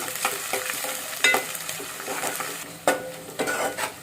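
Ginger garlic paste sizzles in a hot pan for a gongura and chana dal curry, with steady frying crackle broken by repeated stirring scrapes and clinks of a spoon against the pan, close and alone.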